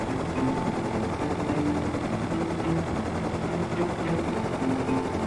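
A helicopter in the Rust survival game drones steadily at close range, its rotor and engine hum holding an even, unbroken level with no voices over it.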